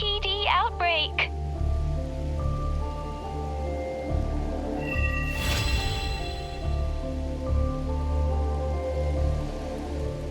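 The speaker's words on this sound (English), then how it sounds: "This rain, it's finally happening." Steady rain patters and hisses on surfaces in the Wuthering Waves video game, a soft continuous wash under ambient music, with a brief swelling rush midway.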